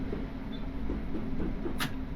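A Class 465 electric train runs through Brixton in a train simulator game, giving a steady rolling rumble with faint rhythmic clicks and a brief high hiss near the end.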